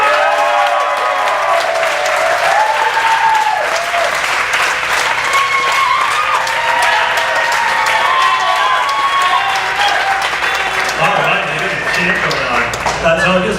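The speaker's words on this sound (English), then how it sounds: "let's start with some applause for Bidder" Loud, sustained audience applause for a startup pitch at the DIG South Wild Pitch 2015 competition. The clapping is mixed with scattered cheers and tonal sounds and continues steadily throughout.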